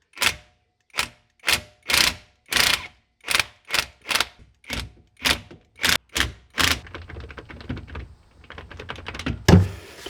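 An impact wrench works on bolts of a 1968 Ford Mustang convertible, firing a loud, evenly spaced series of short hammering bursts, then settling into continuous rattling clatter close by.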